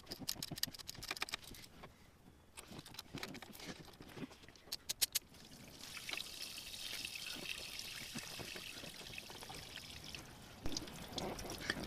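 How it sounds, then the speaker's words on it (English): Water drains from a boat engine during winterizing, pattering and trickling steadily, close by, with scattered sharp clicks and taps early on, then a more continuous draining flow. "Once again, let all the water drain out."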